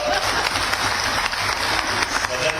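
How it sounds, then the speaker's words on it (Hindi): Loud applause fills an assembly hall during a session, a dense, continuous wash of clapping from many hands that stays strong and even from start to finish. "जोरदार तालियां होगा।"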